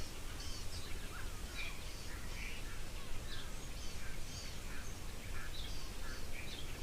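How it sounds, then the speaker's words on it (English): Grey go-away birds calling at a waterhole in the bush, scattered nasal calls and chirps at a distance over a constant low outdoor rumble. "You can hear the grey go-away birds going in the background."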